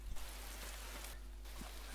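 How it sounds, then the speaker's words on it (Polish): Heavy rain pours steadily in the DayZ video game, a dense, even hiss of falling water that holds at a constant level for the whole two seconds, with no talking over it. "Już deszcz leje, gówno widać."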